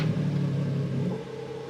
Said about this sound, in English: when you start up the car, you can't instantly rev it because the engine needs a running time to get warm